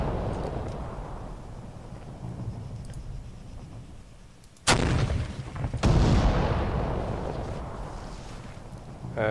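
Gunfire in the Arma 3 military shooter game, with two loud sharp blasts about a second apart that hit over a rumbling, windy battlefield background and leave a long echoing tail.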